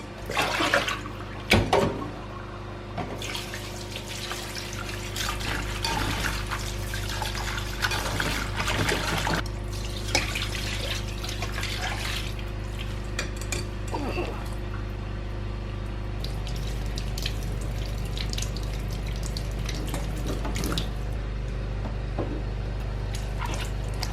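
Tap water runs steadily over a cucumber and fruit being washed for infused water, a continuous close trickle and splash with brief louder surges near the start and no voices.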